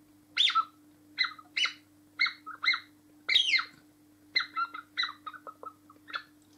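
A hunting call lure imitating a thrush, blown in a series of short, high, sharp whistled chirps in irregular bursts, close and clear over a quiet background with a faint steady hum.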